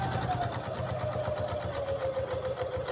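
A sewing machine runs steadily while stitching a shirt collar, a continuous close whir with a fast even needle patter and a faint tone slowly dropping in pitch across the three seconds.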